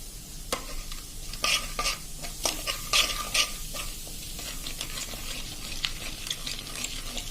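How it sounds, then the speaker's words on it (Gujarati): Gram flour (besan) toasts in a pan over low to medium flame while a spoon scrapes and stirs it, with rhythmic close scraping strokes over a soft sizzle. "હલકો ગોલ્ડન થાય ત્યાં સુધી આપણે આને સ્લો ટુ મીડિયમ ફ્લેમ ઉપર હલાવશું।"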